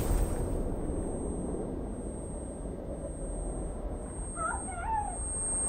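A cat meows in the trailer for A Quiet Place: Day One: a couple of brief, faint, wavering cries near the end over a low, rumbling score, with no voices.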